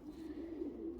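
Pigeons give a low, soft cooing, a sustained throaty warble that rises and falls over about a second, fairly close with a light background hiss.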